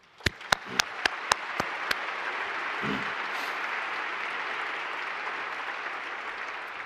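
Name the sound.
graduation audience applause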